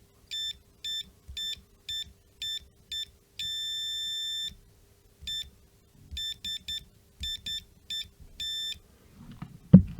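A multimeter in continuity mode gives a run of short electronic beeps each time a switch is pressed down, with one longer sustained tone midway, loud and close. Faint handling noise sits underneath and a clunk comes at the end.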